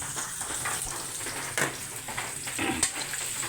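Onion, garlic and ginger frying in a pan, a close and steady sizzle with occasional stirring clatter.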